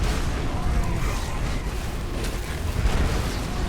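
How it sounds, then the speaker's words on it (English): Magic explosions and heavy fire with dense particle effects during a Skyrim battle, heard as a loud continuous rumbling roar of overlapping blasts and booms that never lets up across the whole stretch. "Oh, damn, there's explosions."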